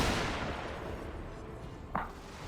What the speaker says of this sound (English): we got full 400 men firing